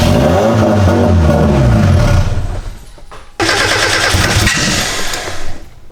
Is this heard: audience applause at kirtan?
no